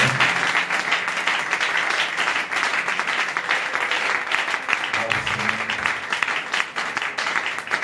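A church congregation applauds loudly and steadily, dense clapping filling the space without a break, with cheers and voices mixed into the crowd noise.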